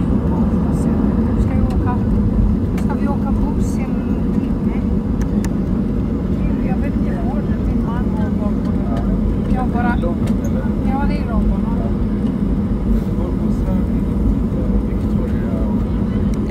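Ryanair Boeing 737-8 taxiing to its parking stand at London Stansted, a steady loud engine roar heard from inside the cabin, continuous and even, with faint clicks and rattles on top.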